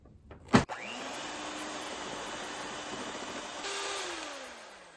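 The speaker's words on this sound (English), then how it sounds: "my mixer sounds like it's going to explode" A click, then a stand mixer motor whirs up into a loud, steady high-pitched drone, beating butter and sugar, that shifts pitch near the end and winds down.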